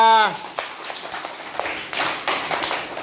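Children in a classroom clap in a brief scattered patter after a voiced tone, with soft uneven hand claps spread across a few seconds.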